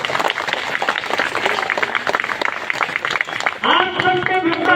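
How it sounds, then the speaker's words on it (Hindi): A crowd at an outdoor protest rally in bitter cold applauds loudly to welcome the protesters, a thick wash of clapping with voices mixed in, and raised voices rise over it near the end. "इनके लिए मैं चाहता हूँ पुनः एक बार जोरदार तालियों से स्वागत करें"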